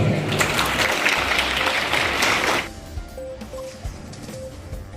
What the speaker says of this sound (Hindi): इस मां के लिए, इस सच्चे अभिभावक के लिए जोरदार ताली